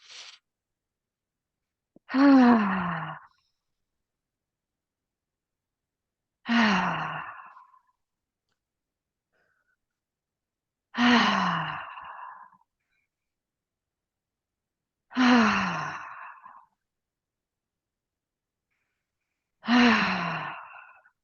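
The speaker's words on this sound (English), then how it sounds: "we're just going to take some deep breaths, filling the bubble with this space." Five slow, deep breaths during a guided meditation, each a loud, breathy exhale lasting about a second, separated by several seconds of silence, with no talk over them.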